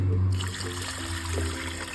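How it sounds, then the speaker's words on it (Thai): Plain water pours into a pot while a Thai rice noodle dish with fermented fish sauce is being cooked, a close, continuous splashing trickle that starts with a louder gush. "แล้วก็ใส่น้ำลงไปเลยค่ะ"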